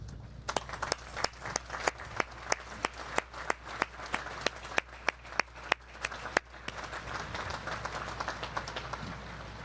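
Audience applause for Naval Academy graduates at a commissioning ceremony, a steady wash of clapping with many sharp individual claps standing out, continuous and fairly close for the whole stretch.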